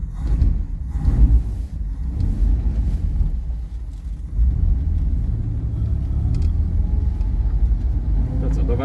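A vintage Chrysler that once ran the Peking to Paris rally, driving with a steady low engine and road rumble and some wind noise throughout, while people talk inside the car.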